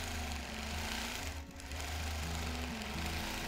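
A quilting machine stitches twirls into a quilt with a steady, fast mechanical whir and rapid needle chatter that runs continuously, with one brief dip in the middle.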